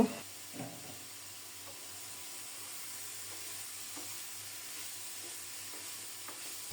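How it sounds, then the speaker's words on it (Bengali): A steady low sizzle of vegetables cooking in a covered pan, with a few soft stirring knocks spread across it, close and continuous, no voices. "সব মিলিয়ে কিছুক্ষণ ঢেকে ঢেকে নেড়ে চেড়ে কষিয়ে নেব"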